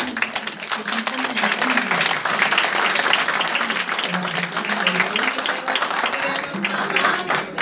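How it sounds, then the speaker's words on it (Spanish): Audience at a big band school concert gives sustained, full applause that fills the whole stretch, with a voice speaking faintly underneath. "Un fuerte aplauso para todos ellos y un fuerte aplauso para los padres de familia."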